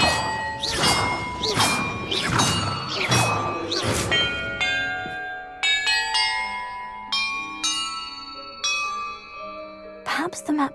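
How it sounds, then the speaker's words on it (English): Bells in the video game Hogwarts Legacy ring out as a series of struck clangs, several loud overlapping strikes at first and then single tones ringing and decaying one after another, with a voice speaking briefly near the start. "Perhaps the map contains clues about the order I'm supposed to ring the bells in."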